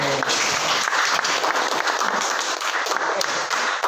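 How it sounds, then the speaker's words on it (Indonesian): Group applause in a classroom lesson, steady dense clapping from many hands filling the room for the whole stretch with no voices rising above it. "aplaus buat kita semuanya"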